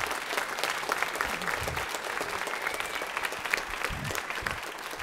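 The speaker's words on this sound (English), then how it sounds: "If you guys would give him a round of applause," An audience applauds at a high school spring chorale concert, a continuous, moderately loud spread of clapping hands lasting several seconds, heard alone without talk.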